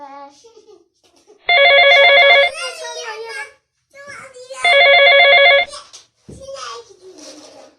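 A toy telephone rings twice with bright electronic trilling bursts, each about a second long, while someone talks and plays in between.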